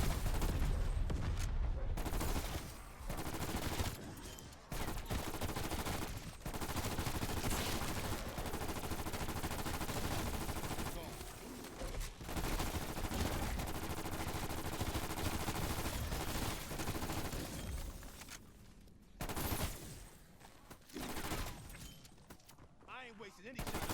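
Rapid, dense gunfire from Call of Duty Cold War Zombies, near-continuous bursts of automatic shots with brief pauses, loud and sustained, with voices talking over it.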